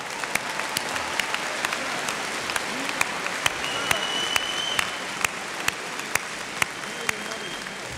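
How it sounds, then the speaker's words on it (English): Commencement audience applauding steadily after the master's degrees are conferred at Clarkson University, a dense wash of claps with sharp, loud individual claps standing out throughout, and a few faint voices mixed in. "Ladies and gentlemen, applaud."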